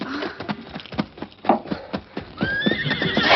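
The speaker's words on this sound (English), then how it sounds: "Here's my horse." A horse whinnies and its hooves clip-clop close by in an old 1940s radio western, with repeated sharp hoof beats and a rising neigh standing clear with no talk over them.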